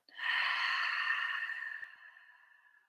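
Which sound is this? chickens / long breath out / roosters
long breath out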